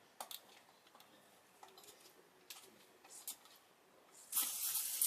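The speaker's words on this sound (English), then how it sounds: "So I'm going to spray it" Aerosol perfume-like spray from a gift-haul item, heard as a loud continuous hiss near the end after scattered small clicks and handling taps.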